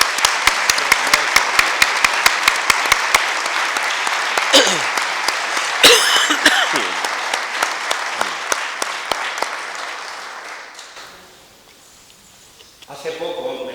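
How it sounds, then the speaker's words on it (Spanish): An audience at a book presentation breaks into applause, dense clapping with a few sharp individual claps standing out, fading away toward the end before a last brief burst, with some voices in the crowd. "un aplauso por todas esas personas"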